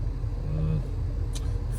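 Car heard from inside while driving, a steady low engine and road rumble filling the cabin, moderately loud with no one speaking.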